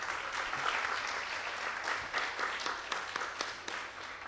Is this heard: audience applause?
yes